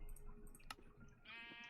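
A sheep in Minecraft gives a short bleat over a background of game music and ambience, faint and brief, with no voices.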